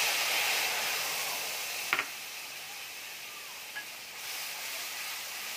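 Spices hiss and sizzle steadily in hot oil in a home kitchen while a Bengali pocket-pea vegetable curry is being cooked, a constant close frying noise with a couple of faint utensil clicks.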